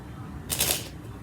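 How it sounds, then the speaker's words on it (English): A deck of playing cards is cut by hand during a magic trick, one brief crisp riffling rustle close to the microphone. "I'll even cut it one more time."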